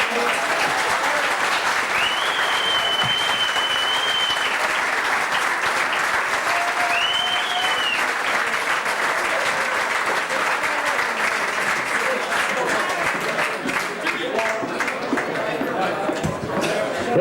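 Long, steady applause from an audience after a spoken appreciation at a live event, evenly dense and unbroken, with faint voices and a short whistle-like tone over the clapping.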